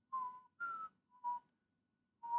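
Someone whistles four short, clear tones in a loose rhythm, each separated by a brief pause, close and fairly soft with no talking.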